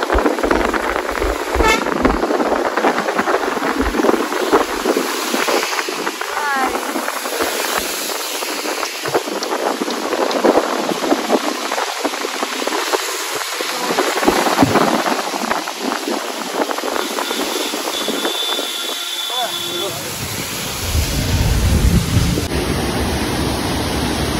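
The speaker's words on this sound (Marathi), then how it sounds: "सेकंड धबधबा।" A waterfall at Amboli ghat roars as a broad, constant rush of falling water mixed with gusty wind buffeting the microphone, loud and close, easing near the end.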